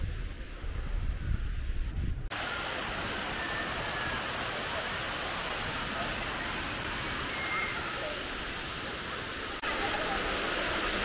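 Water flows out of natural stone and down into a storage tank, making a steady, loud, close rushing hiss that continues throughout without a break.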